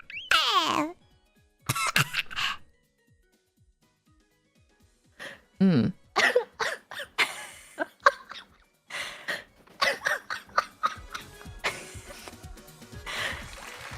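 A person imitates a baby coughing for a comedy contest, giving short, high, squeaky coughs and gasps in scattered bursts, with silent pauses between them and some talking.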